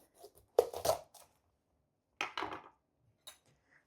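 A knife cuts through a spaghetti squash in a kitchen, giving two separate bursts of crunchy slicing and scraping, close and fairly quiet, followed by a faint short tap.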